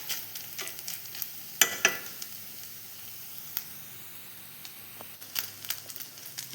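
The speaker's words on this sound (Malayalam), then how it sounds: "അപ്പോൾ ഇതാ തേങ്ങ നല്ല ചോന്ന് വരുന്നുണ്ട്" Grated coconut roasts in a pan, a faint dry sizzle broken by scattered scraping stirs and a few sharp clicks of the spatula, with no voices.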